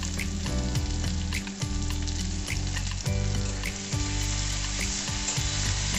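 Grated garlic and ginger frying in a pan for an arbi (taro) curry, a steady close sizzle with occasional stirring scrapes, loud and continuous throughout, with no talking.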